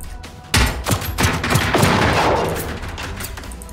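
A second weapon fires in a robot-fighting video game, loud close rapid shots in an uneven burst, then a lingering rumbling tail.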